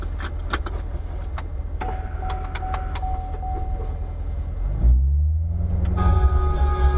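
A 2017 Corvette Stingray 2LT coupe with its engine idling in a steady low rumble inside the cabin, then a deep revving surge as the car pulls away, with small mechanical clicks and no talking.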